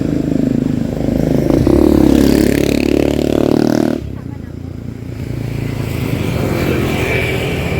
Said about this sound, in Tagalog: ililipat muna ni Red yung sasakyan at pakurba eh